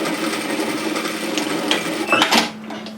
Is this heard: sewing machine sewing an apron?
yes